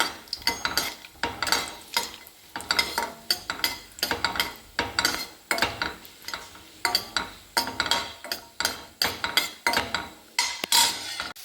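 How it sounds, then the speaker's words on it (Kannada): Cashews frying in ghee in a kadai, heard as repeated clinking stirs of a utensil against the pan over a low sizzle, steady rhythmic scraping throughout with no talking. "ಗೋಡಂಬಿಯನ್ನು ಹಾಕಿಬಿಟ್ಟು ಸ್ವಲ್ಪ ಫ್ರೈ ಮಾಡಿ ತೆಗೆಯೋದು"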